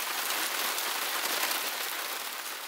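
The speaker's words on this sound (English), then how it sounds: "Oh, I'm getting hit by hail here." Hail pelts a small sailboat in a dense, steady hiss of tiny impacts. It keeps up a constant patter with no voices.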